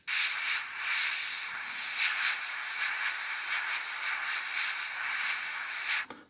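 An airbrush sprays thin Tamiya lacquer paint in light passes, a close, steady airy hiss with gentle pulses as the trigger eases and a short click near the end.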